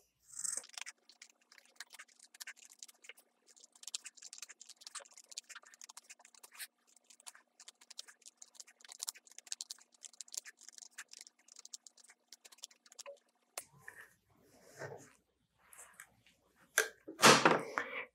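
Scissors snipping through cotton fabric scraps while cutting a circle for a patchwork placemat, a run of small quiet crisp snips with pauses, then a few louder cuts near the end, no talking.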